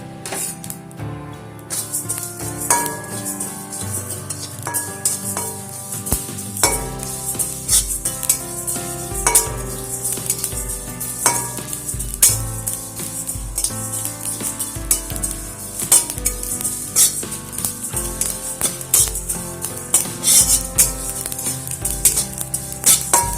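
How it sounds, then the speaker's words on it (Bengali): Panch phoron, the Bengali five-spice mix, dry-roasting in a hot empty kadai: a steady crackle and rattle of seeds with repeated scraping and clinking of a spoon against the metal pan, close and continuous, with no talking. "এই শুকনো কড়াইতেই আমি 1 চামচ পাঁচফোড়ন"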